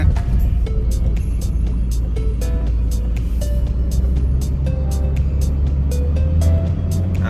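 Car accelerating at full throttle while chasing a train in Thailand: a loud, continuous low engine roar with repeated short clicks and ticks scattered throughout, heard close and steady, with no talking.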